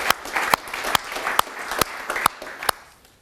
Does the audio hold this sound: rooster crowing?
no